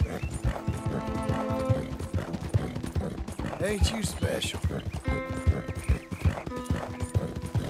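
Horse hooves clip-clop steadily in Red Dead Redemption 2, close and clear, with a horse's whinny and someone talking gently over the walking rhythm.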